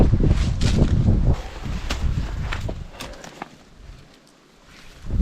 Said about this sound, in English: It's really windy too, man.